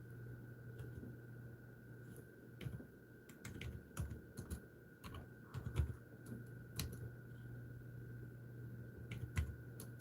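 Quiet clicking of typing on a computer keyboard, irregular bursts of keystrokes close by over a faint steady electrical hum, with pauses between runs.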